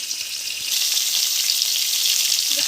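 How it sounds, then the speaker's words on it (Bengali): Marinated chicken leg pieces fry in hot oil with a steady, dense sizzle that holds close and loud throughout, a faint stir near the end. "মাখানো মাংস সুন্দর করে আস্তে আস্তে ভেজে নিচ্ছি"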